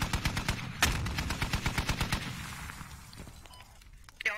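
A .50 caliber machine gun in the military shooter Squad hammers out a rapid, loud string of shots with one sharp crack standing out, then the fire stops and fades into ambient quiet before a final pop.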